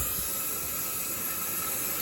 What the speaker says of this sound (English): Turn the injector steam on.